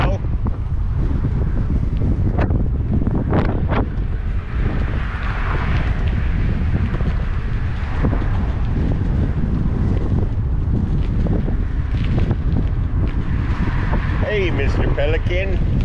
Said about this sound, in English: The wind's trying to blow my hat off.